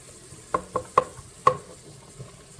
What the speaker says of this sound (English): So you see it's just barely kind of sizzling down there